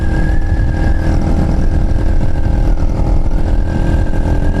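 A Chinese motorcycle engine revs steadily and loudly throughout while being ridden, a constant droning roar with no pauses and no speech.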